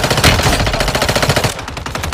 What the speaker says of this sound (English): There's somebody shooting at me though.